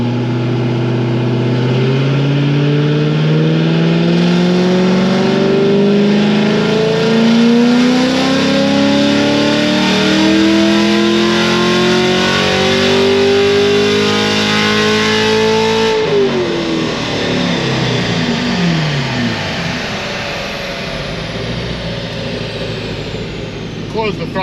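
A boost-ready Corvette C7 Grand Sport V8 on a dyno climbs through a long, loud wide-open pull, its engine note rising steadily before the throttle closes and the revs wind down near the end.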